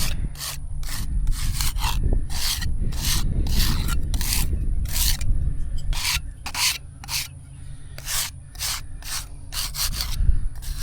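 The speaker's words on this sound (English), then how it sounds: "We're just gonna scrape off the surface gook here." Dirty grave markers in a family plot being scraped clean of surface grime, a steady run of rough rubbing strokes, close and fairly loud, with no talking.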